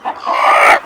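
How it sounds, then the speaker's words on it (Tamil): A hen in a backyard chicken farm in Jaffna clucks close by, a short agitated burst of squawking calls rising and holding, alone without talk. "இது பேடு"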